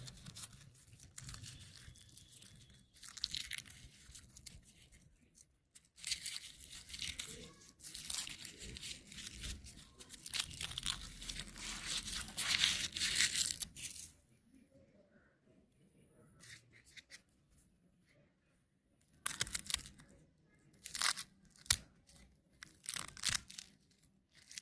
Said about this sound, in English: simply peel a fresh garlic clove and cut it in half.